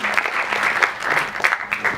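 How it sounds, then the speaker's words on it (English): A Model United Nations crowd claps for the executive board at a closing ceremony, producing dense, lively applause with scattered sharper claps standing out, close and fairly loud for two seconds. "big round of applause for the executive board"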